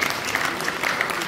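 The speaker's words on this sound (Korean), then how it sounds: "박수 한번 치고 박수." Brief burst of steady applause from an audience at a Korean company listing briefing, dense even clapping throughout the short moment.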